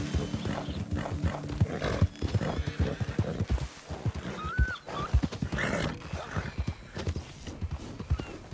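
Close, loud neighing from a horse in the video game Red Dead Redemption 2, with a rising whinny partway through, set against steady hoof clip-clops and light movement.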